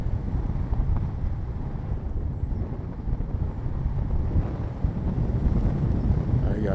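Wind while paragliding at Pointe de Bilfot on the coast: a constant low roar of wind buffeting the microphone, loud and rumbling throughout, with a voice speaking over it.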